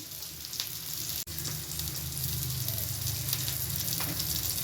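Hot oil sizzles and crackles steadily in a pan, heating for mustard seeds in a prawn thokku, a close, continuous frying hiss with a brief dropout near the start.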